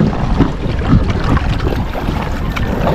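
A small fishing boat's engine runs steadily and close by on open water, its low throb mixed with wind buffeting the microphone and the wash of water, with no talking.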